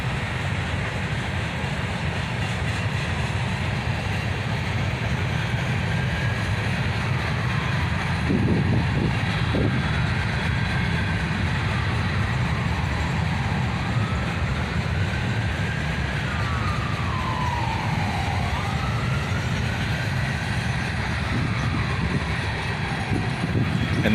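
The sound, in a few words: CSX freight train with hopper cars passing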